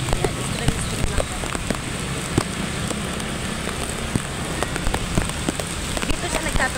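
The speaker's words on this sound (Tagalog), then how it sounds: "Ang lamig, sobrang lakas ng ulan, sobrang lakas ng hangin." Heavy rain lashes down in a strong wind during flooding in Caloocan, a dense, steady downpour roaring close by with scattered louder drops and splashes, while voices speak faintly underneath.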